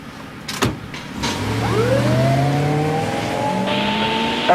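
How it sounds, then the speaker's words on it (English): A car starts and pulls away on gravel, its engine rising in a steady climbing whine over a low rumble, with a sharp knock near the start and a continuous loud drive-off lasting several seconds. "I heard the car starting and the gravel spinning and the car taking off"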